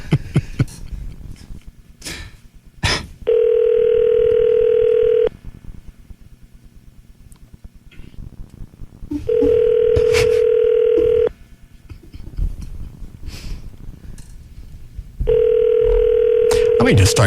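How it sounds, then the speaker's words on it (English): A telephone ringback tone sounds in three long, even bursts while a call is placed during a radio show, with people talking and clicks between the rings. "Are we going to call Trey"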